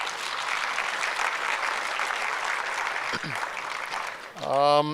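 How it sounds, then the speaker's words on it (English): A conference audience applauds the panelists with steady, dense clapping filling the room, ending as a voice begins speaking over the last moments. "Can we give another round of applause to the panelists?"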